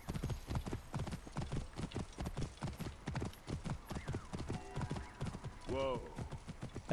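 Steady rhythmic clip-clop of horse hooves trotting at night in Assassin's Creed Origins, with a brief horse whinny near the end.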